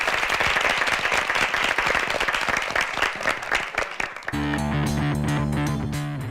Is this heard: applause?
yes